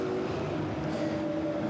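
Engine drone of the second-place GT4 race car crossing the line at the Misano circuit, a sustained mid-level roar with a slight tonal sweep, no voices.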